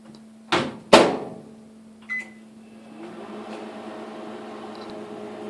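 A microwave oven heating peanut brittle: two loud clunks of the door and a beep, then the steady low hum of the running oven with its fan whirring, fairly close.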